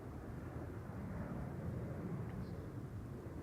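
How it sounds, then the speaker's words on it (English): A KLM airliner on flight 751 from Guayaquil arrives at Schiphol on the Polderbaan runway, a steady broad low jet roar that holds at moderate level throughout, with no talking. "This is KLM flight 751 returning from Guayaquil."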